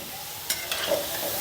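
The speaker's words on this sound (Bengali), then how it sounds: "আলুগুলো ভাজা হয়ে গেছে" Potatoes frying in oil and being stirred, a soft sizzle broken by a couple of quick scraping strokes of the spoon, heard up close and alone.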